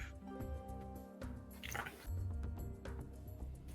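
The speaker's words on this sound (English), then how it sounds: "the constant sound of dripping water is all around you" Water dripping steadily in a damp, dark cave, scattered faint drips and soft wet plinks over a quiet low hum and a light musical bed.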